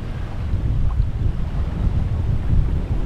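Strong wind at sea roaring and buffeting the microphone, a constant low rumble with faint water sounds beneath, no voices.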